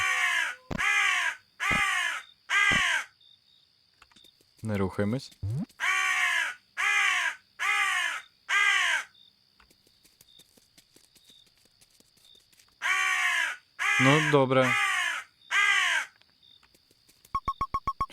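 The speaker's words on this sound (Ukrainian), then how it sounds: "якщо я почую, що ворона літає, треба просто стояти" In the Small Mouse, Big House video game, a crow caws in repeated harsh bursts, loud and close, in clusters separated by quiet gaps, with a voice speaking briefly in between.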